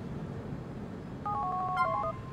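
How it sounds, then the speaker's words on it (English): Phone number dialed on an in-game cell phone in GTA 4: a quick run of clear, electronic keypad tones, about a dozen short beeps in brisk sequence, heard over a steady low background hum. "Dial number on your phone."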